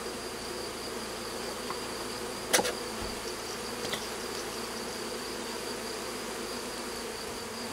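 Bees buzz steadily inside a hornet nest box, a dense, continuous hum close by, with a couple of brief knocks and clicks partway through.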